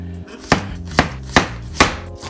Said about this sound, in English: No rhyme or rhythm to chopping it up.